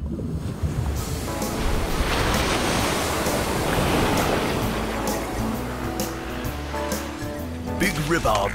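Ocean waves crash and fast-moving rip current water rushes at a beach, a steady loud roar of surf with wind buffeting the microphone, while people talk over the water.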